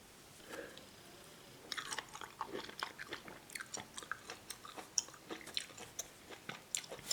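Close, quiet chewing of a juicy orange starts after a short pause, then continues as a steady run of wet, crunchy bites and squelches, each distinct and evenly paced.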